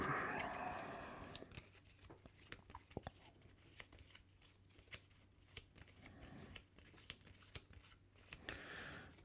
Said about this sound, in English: then shuffle the remaining card into the deck